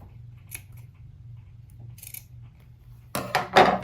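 Scissors snip fabric of a bodice piece for a jumpsuit in a few sharp, close cuts spaced apart, ending with a quicker cluster of louder snips and rustling.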